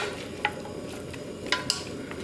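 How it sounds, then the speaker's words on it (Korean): Seasoned radish, already weeping water, is gently stir-fried in a pan for a Korean namul side dish. Soft steady sizzling runs throughout, with a few light scrapes or taps of the utensil against the pan. "살살 이렇게 볶아가지고"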